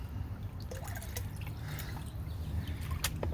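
Water sloshes and trickles over gravel in a gold pan as the top layers are washed off, a close, continuous liquid swirl with scattered drips and low rumbling handling.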